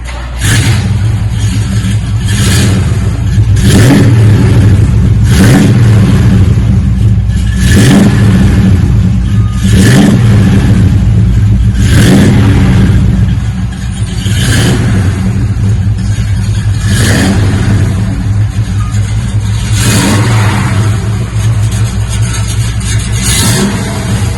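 Carbureted old-school car engine without fuel injection, revved repeatedly in a steady pattern of roughly a dozen sharp, loud blips over a constant rumbling idle, close to the microphone with no talking.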